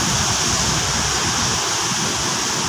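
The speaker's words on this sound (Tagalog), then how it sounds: "Grabe ang lakas ng tubig." A river swollen after heavy rain rushes past in a loud, continuous roar of churning water, close and unbroken, with no voices over it.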